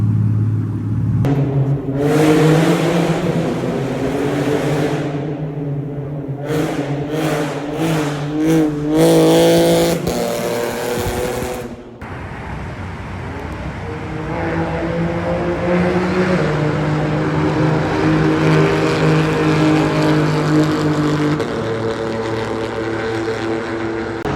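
A loud 2018 Camaro 1LT RS roars past, revving hard and then fading, followed by a steady engine drone; no voices.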